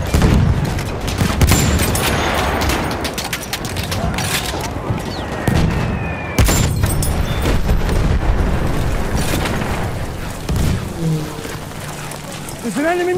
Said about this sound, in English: There's an enemy machine gun.